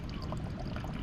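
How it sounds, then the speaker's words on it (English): Filtered water pours from a filter bag into a large bottle at an outdoor beach camp, a steady close splashing trickle filling the vessel without pause. "I'm just topping up my big water bottle here"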